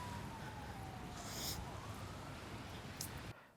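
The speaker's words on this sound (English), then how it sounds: "I can hear a bunch of fire trucks in the background" Distant sirens from a group of fire trucks, a faint wailing tone sliding slowly up and down beneath steady outdoor background noise, continuous for a few seconds before cutting off.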